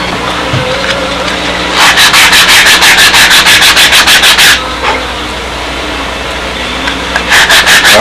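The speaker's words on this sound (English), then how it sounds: "get the last few thousandths off with a sanding block" A sanding block rubs back and forth over a light plywood bulkhead, truing the model aircraft part with a rapid burst of close, rhythmic strokes, a pause, then another short run of strokes.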